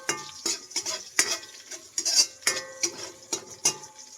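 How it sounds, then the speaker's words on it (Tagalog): A spoon scrapes and clinks rhythmically in a pan where garlic and ginger fry, producing sharp close stirring knocks about twice a second over a soft sizzle, with no talking. "Ayan, konting halo lang. Ito lang nating mag-golden brown itong bawang at luya."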